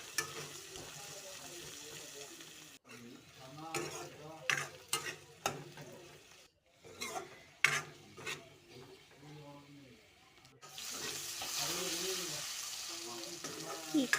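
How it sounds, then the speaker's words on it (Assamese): Small potatoes fry in a pan at home, giving a soft sizzle with intermittent stirring scrapes and clatters, fairly faint, with a brief quiet gap and louder frying toward the end. "সৰু আলু ভাজি আছোঁ"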